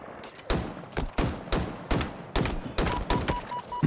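Plasma carbine gunfire in Halo Infinite, sounding as a steady rhythm of sharp, punchy shots about three per second, close and loud, each followed by a short decaying tail.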